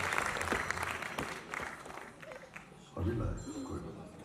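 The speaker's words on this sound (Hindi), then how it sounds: "जोरदार तालियां सभी सॉन्ग स्पॉन्सर्स को।" An audience at a musical evening breaks into applause, a fairly faint spread of clapping that fades and swells again, mixed with a speaking voice.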